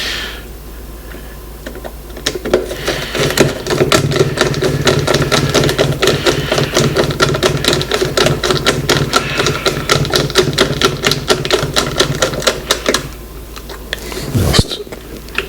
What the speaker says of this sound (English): So put in a few screws on each side so we get the lid stable.